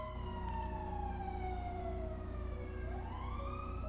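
A wailing emergency siren from an ambulance in GTA roleplay on the NoPixel server sweeps steadily down and then up again, faint and continuous over low traffic rumble, with no talking.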